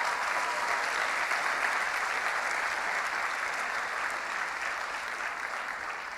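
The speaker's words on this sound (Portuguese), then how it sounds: "aplauda o Senhor." Sustained applause from a church congregation during a service, a dense, steady wash of clapping filling the room evenly from start to finish without letting up.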